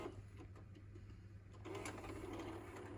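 A VHS tape loads into a windowed VHS tape player with faint mechanical whirring and ticking, the motor noise growing louder and busier about halfway through.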